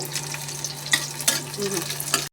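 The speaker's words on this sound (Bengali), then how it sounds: "আমি এর জন্য রসুনগুলোকে দিয়ে দিলাম তেলের মধ্যে। এক পাশে শুকনো মরিচ দিয়ে দিলাম ভাজতে।" Garlic and dried chillies fry in oil with a steady close sizzle, broken by a few sharp crackles and spatters, with a faint low hum underneath and no talking.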